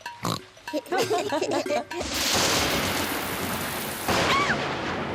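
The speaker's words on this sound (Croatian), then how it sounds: "Mama, grmljavina je strašno glasna." Loud thunder crash in a Peppa Pig cartoon during a rainstorm, a broad rumbling roar that swells after a voice speaks and stays heavy to the end.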